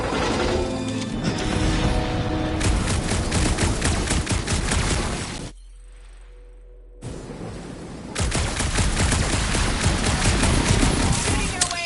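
Heavy gunfire in a Guardians of the Galaxy movie scene, dense rapid bursts and crashes. They cut to near silence for a moment, then resume just as loudly, with speech mixed in.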